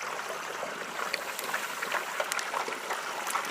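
Cooking oil pours into a turkey cavity for frying, a continuous close gurgling trickle with light bubbling splashes throughout.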